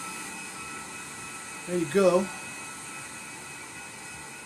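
An A-10 jet aircraft taxis fast toward the end of the runway, its engines a steady roar and whine inside the cockpit, with a brief spoken phrase midway.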